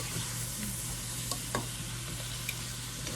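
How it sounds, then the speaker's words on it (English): Broccoli and onions sautéing in a pan, a steady soft sizzle with faint stirring scrapes and a few light clicks of a utensil, close and fairly quiet throughout. "We're going to saute this broccoli with these onions."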